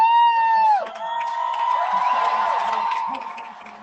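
Concert crowd at a show cheering and whooping loudly, a sustained roar of many voices with a sung or shouted tone at the start, fading slightly toward the end.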